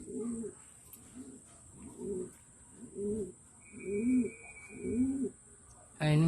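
Racing pigeons coo during a pigeon race in Balaoan, La Union, in a steady series of six soft, low calls, each about half a second, with a faint high hiss in the background and a brief sharper sound at the end.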